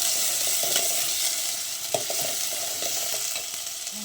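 Potatoes and onions frying in a pan while being mixed with masala for Gujarati rasiya bhaat, a steady hissing sizzle with intermittent soft scrapes and taps of a spoon.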